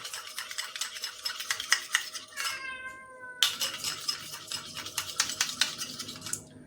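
A tomato face cream is stirred in a bowl, giving a steady rhythm of close spoon scrapes and clicks. A cat meows briefly partway through, and no one talks.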